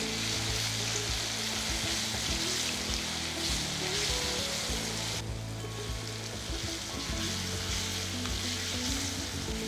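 Okra pieces sauté with salt in a pan for sambar, giving a steady close sizzle with intermittent stirring scrapes and knocks, loud and unbroken throughout.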